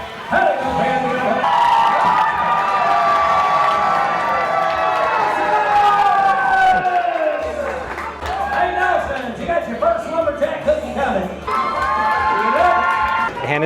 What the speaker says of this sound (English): Everybody give her a great big round of applause right there